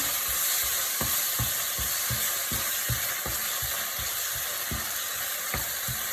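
Cumin powder, turmeric, coriander powder and tomato paste being stirred in a hot pan: a constant close sizzle carries evenly spaced scraping strokes of a spoon, roughly one or two per second, with nobody speaking.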